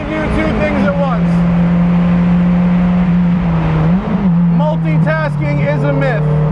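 A 2017 Mazda MX5 Cup race car is driven on track, its engine a loud, sustained, close-up drone that dips and recovers briefly midway, with someone talking over it.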